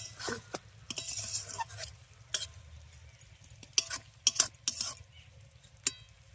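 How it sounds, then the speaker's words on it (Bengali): Small fish cooking in an uncovered wok are stirred with a utensil, giving sporadic scraping clinks and taps over a soft sizzle, close and fairly quiet. "এবারে আমি একটু ঢাকা খুলে এগুলো করে একটু নাড়াচাড়া করে দিই না হলে ওগুলো লেগে যাবে"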